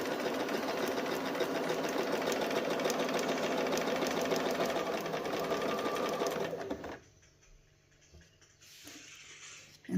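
A Bernina 1030 Swiss sewing machine sews a satin stitch at a short stitch length, a steady, fast mechanical hum for about seven seconds before it stops and leaves a quieter background.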